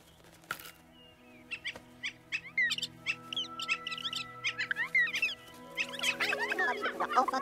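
Birds chirp and twitter in short, bright bursts, sparse at first and then growing busier and louder, over a low steady hum.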